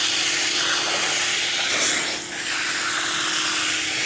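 Low-moisture upholstery cleaning tool pulling strong vacuum suction, a steady loud broadband hiss and roar held throughout with a slight dip in pressure midway, no voices.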